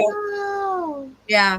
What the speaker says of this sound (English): If you hear any noise in the background, the cats are literally all down here with me again.